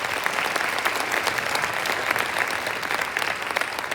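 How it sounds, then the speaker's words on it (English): Audience gives sustained applause for Olympians from the 2024 Paris Games, a dense, even wash of clapping from a sizable crowd continuing for several seconds. "I think they deserve another round of applause for sure."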